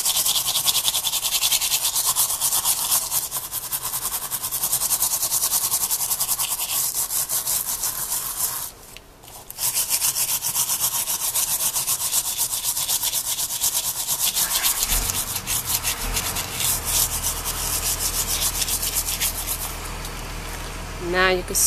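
A hand tool rubbed steadily over foil to emboss a Halloween tag gives a continuous, close scratchy friction sound with a short pause midway, alone without talk.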